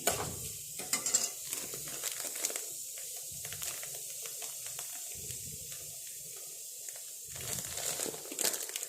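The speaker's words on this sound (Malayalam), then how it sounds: "ആ റേവ ഈ എണ്ണയ്ക്കകത്തേക്ക് ഇടണം അത് പയ്യെന്ന് വറുത്തും എടുക്കാം" Semolina (rava) roasting slowly in oil in a pan for upma, giving soft intermittent crackling, scraping and stirring rustles, fairly quiet and close, with short louder bursts at the start and end.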